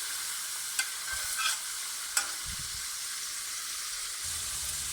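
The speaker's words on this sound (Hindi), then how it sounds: "लहसुन और प्याज के साथ हमने फ्राई कर लिया है" Steady sizzling hiss of garlic and onion frying in a pan, with a few sharp scraping stirs and clinks over the constant crackle.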